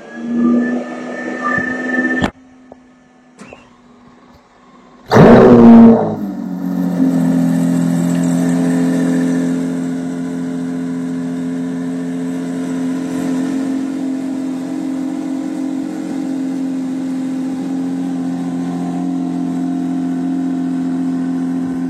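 Lamborghini Aventador SVJ or Audi RS3 engine starting with a sharp burst, then settling into a loud, steady idle that runs continuously, close by with no talking.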